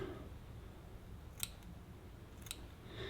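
Scissors cutting out a crab fly body, two or three faint crisp snips at irregular intervals in a quiet room with soft background hiss.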